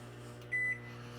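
A microwave oven heating a bowl of water, with a low steady mains hum and fan drone and a brief high electronic beep partway through, close and fairly quiet.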